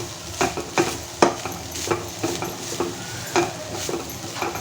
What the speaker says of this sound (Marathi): दोन वाटी ओलं खोबरं आहे याचं जर आता परतवून घेते